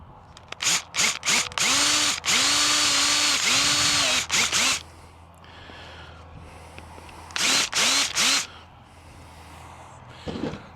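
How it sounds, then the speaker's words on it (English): A power drill bores a hole to fit clear plastic tubing for a DIY fishing sonar mount, running in several loud close bursts, one long sustained run then short spurts, with quiet pauses between. "I'm going to drill it out here first."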